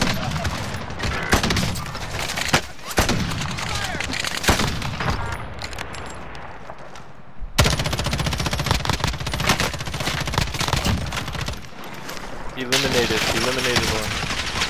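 Bursts of close automatic gunfire in Call of Duty Modern Warfare during a multiplayer firefight, with a few heavy booms, dense and loud through most of the stretch and one short lull, under players talking.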